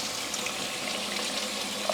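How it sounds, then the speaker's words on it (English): Cold tap water runs steadily over cooked pasta in a colander, a continuous close splashing rush with no talking. "I do like to run cold water over the pasta so that it'll cool down before I mix it in"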